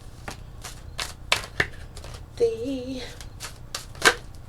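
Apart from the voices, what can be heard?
shuffling tarot cards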